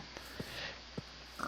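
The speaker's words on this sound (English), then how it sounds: "Pigs can be killed" A pig in the Minecraft video game gives short, separate grunting oinks at a moderate level over a quiet game background, with no talking.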